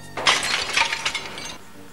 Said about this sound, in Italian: Il vetro su cui c'era la foto di Samuel è caduto in terra ed è andato in mille pezzi